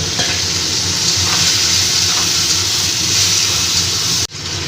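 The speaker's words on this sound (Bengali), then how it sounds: "এবার সামান্য একটু জল দিয়ে আমি মশলাটাকে একটু কষিয়ে নেব" Ground spices with salt and sugar cooking down in a pan with a splash of water for a ridge gourd dish, a loud continuous close sizzle that cuts off abruptly near the end.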